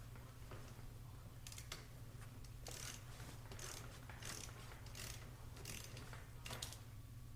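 Ratcheting clicks from a wrench tightening a bolt on an Adventure Pluma paramotor with a Vittorazi Moster 185 Dual Start engine, a steady run of close, crisp mechanical ticks and clacks with scattered sharper bursts, no voices.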